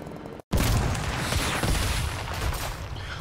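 Aircraft cannons fire from a cargo plane in Trailmakers, a sudden loud burst followed by a dense, sustained rumbling barrage.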